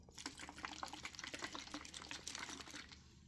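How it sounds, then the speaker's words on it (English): Soft crinkling and sloshing from a plastic water bottle, a steady stream of small crackles and liquid movement heard up close and quietly. "Water bottle sounds."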